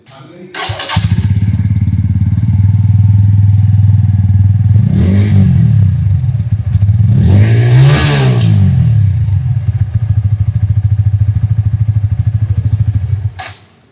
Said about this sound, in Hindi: अब एग्जॉस्ट नोट जो है वो चलिए सुन लेते हैं।